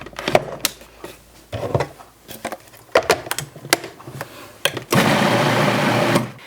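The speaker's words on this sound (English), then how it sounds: "I've got 8 cups of diced watermelon here that we are again going to puree" Eight cups of diced watermelon being pureed in a blender: a few short pulses and clunks first, then a loud continuous motor whir for a little over a second before it cuts off.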